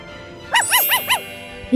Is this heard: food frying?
no